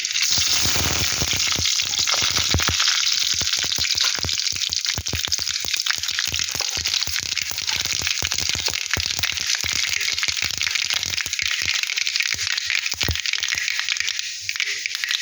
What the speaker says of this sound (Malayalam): കടുകിട്ട് പൊട്ടി വന്നപ്പം